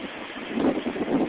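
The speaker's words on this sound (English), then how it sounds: "captured the torrent of water on his cell phone" Roaring torrent of flash-flood water rushing down a canyon near an orchard, captured on a cell phone: a steady, loud, wind-buffeted rumble with surging pulses and no voices.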